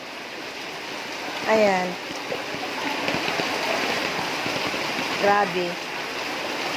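Floodwater rushes steadily in a continuous broadband wash throughout, with a voice speaking briefly twice over the flow.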